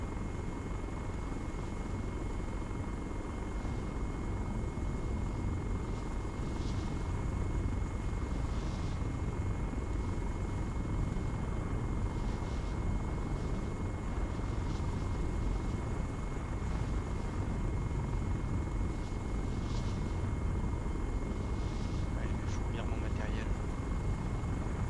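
Helicopter in the Arma 3 military video game, a steady droning rotor and engine hum throughout, continuous and moderately loud with faint periodic chopping.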